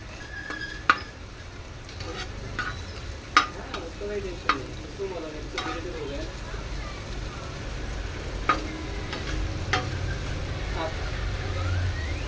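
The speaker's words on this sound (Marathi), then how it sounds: "ते आपण व्यवस्थित असं मिक्स करून घेऊया" A spoon stirs paneer roll batter mixed with vegetables and rock salt in a bowl, giving soft scraping and occasional sharp taps against the side over a steady low hum, while a voice speaks in the background.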